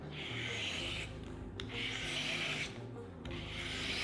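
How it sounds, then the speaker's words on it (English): A vegetable peeler drawn along a cucumber to cut ribbons, three long rasping scrapes in steady strokes with short pauses between, close and moderately quiet. "Here's what you can do with a peeler for a slightly different take on a cucumber salad."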